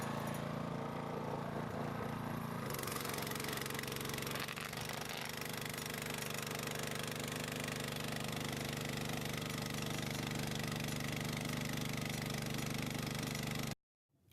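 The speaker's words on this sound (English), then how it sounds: "When the engine is running smoothly, adjust the throttle to maximum" A Wick FT200 4B portable water pump's small engine runs steadily and loudly at full throttle, a constant mechanical drone that stops abruptly at the very end.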